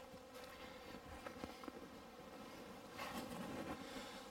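Honeybees crowd a community feeder bucket from underneath, working at drilled holes; a faint, steady buzzing sits low under outdoor wind noise, with a few brief louder swells.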